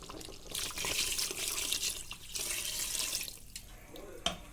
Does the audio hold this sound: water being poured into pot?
yes